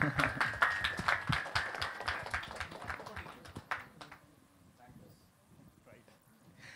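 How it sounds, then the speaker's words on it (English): A few audience members clap at an HR conclave round table, a loose patter of handclaps for about four seconds that thins out and fades, with a voice speaking over the start. "more claps, guys. Come on."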